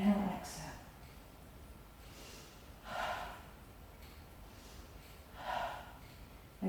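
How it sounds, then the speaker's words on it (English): Deep breaths during a beginner Pilates mat class, with three audible breath bursts, a sharp inhale near the start, then slow exhales spaced a few seconds apart, close and moderately loud over a quiet room. "Inhale, exhale."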